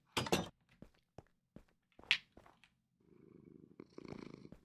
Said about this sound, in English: Cat starts to purr.